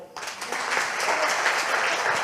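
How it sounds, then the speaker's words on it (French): An audience bursts into applause for a performer, Yves Marcel, the clapping starting abruptly and holding at a full, even roar to the end. "On peut l'applaudir"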